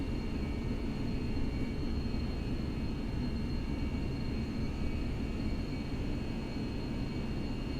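Steady broadband roar of A320 jet engines at climb thrust in the FSLabs A320X for Prepar3D, a continuous even rumble with faint high whine, constant loudness throughout and no talk.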